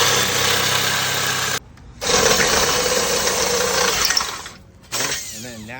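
A power drill bores through a heavy-duty commercial door in two loud, whirring bursts separated by short pauses, with a brief trailing sound at the end.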